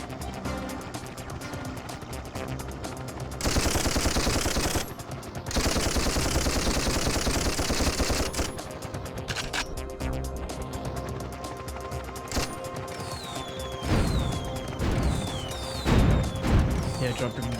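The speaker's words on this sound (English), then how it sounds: "Yeah, dropping bombs." Bombs dropping and exploding in the video game Toy Commander, a dense barrage of booming blasts and crashes layered with game music and engine noise, with sustained loud stretches and scattered bursts, under occasional talk.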